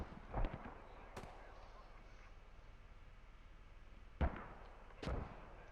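Mortar fire in the World War II shooter Post Scriptum: a few sharp, distant booms spread across several seconds over a quiet battlefield background, with no talk.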